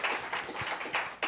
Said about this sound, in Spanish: Dale un aplauso al Señor grande porque Él es bueno